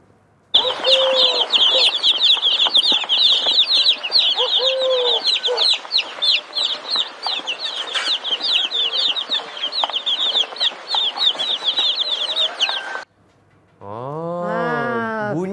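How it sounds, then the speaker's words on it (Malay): Hen and chicks on a farm: a dense, continuous stream of high chick peeping with occasional lower hen clucks for about twelve seconds, followed by a brief burst of speech after a pause. "Kalau ayam dewasa dia berkokok kokok kokok. Kalau, Kalau anak ayam dia cicit cicit cicit."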